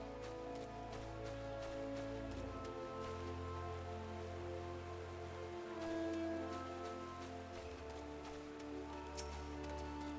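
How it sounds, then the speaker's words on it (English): Rain falls in a Final Fantasy XIV game scene, a faint, steady patter lying beneath looping game music and sustained tones, with soft clicks scattered throughout. "I do kind of wish it wasn't raining."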